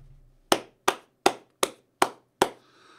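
Six sharp, evenly spaced hand claps picked up close on a USB omnidirectional condenser microphone, each a crisp loud snap with a quick decay in a quiet room.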